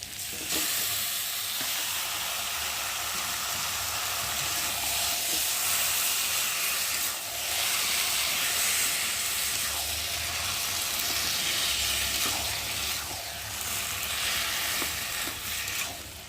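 Boiled taro tumbles into a pan of fried prawns and spice paste for a taro-leaf dish, setting off a loud, steady sizzle that rolls on with no break and swells at moments as the pieces are stirred.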